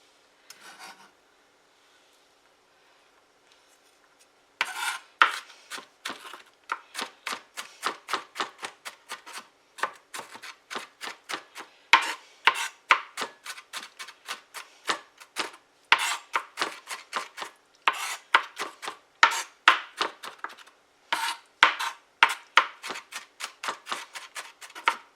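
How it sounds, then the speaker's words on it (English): Red onion is chopped rapidly with a knife on a board, dense rhythmic thuds running in quick bursts for about twenty seconds after a short quiet start, close and clear with no talking. "I've already cut some, so I'm just going to chop it."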